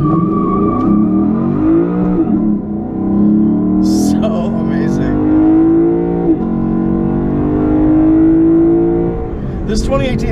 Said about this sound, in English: you want to hear this car launch blast off?